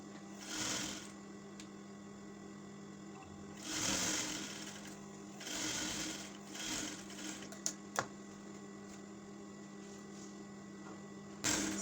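Domestic sewing machine stitching pinafore dress fabric in several short bursts of fast whirring, separated by pauses with faint hum and a couple of sharp clicks, recorded close up with no talking.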